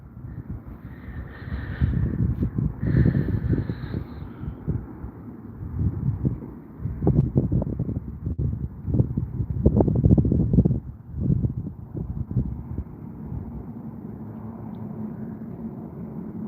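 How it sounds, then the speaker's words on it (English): Wind gusts buffet a microphone on an outdoor walk around Lake Hallie, giving a continuous low rumble that swells and surges in uneven bursts throughout, with no voices. "I don't mind the wind gusts, but they get to be a little much when live streaming"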